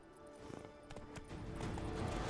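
Hooves clip-clop in a quick gallop as a horse is spurred on in the video game Witcher 3, rhythmic thuds building in loudness over a low rumbling background.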